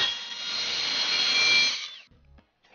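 A jigsaw with a blade too thick for the job cuts through wood for a small wooden Christmas tree, a loud steady buzzing rasp that runs about two seconds before cutting off, followed by faint handling clatter.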